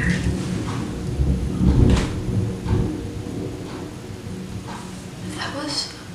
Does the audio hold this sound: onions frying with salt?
no